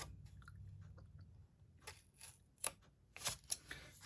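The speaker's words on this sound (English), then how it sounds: "Going to cut to the score line." Paper being cut with scissors along a score line while making a paper purse, quiet close snips and crisp crunching cuts that come in short irregular bursts near the end after soft handling noises.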